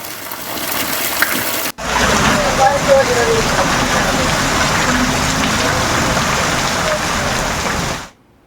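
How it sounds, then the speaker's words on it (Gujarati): Heavy rain pours over flooded farm fields in Gujarat, a dense steady roar that starts abruptly after a brief quieter moment and holds loud and unbroken until it cuts off at the end. "ધોધમાર વરસાદ વરસતાની સાથે જ ખેતરોમાં પાણી ફરી વળ્યા છે"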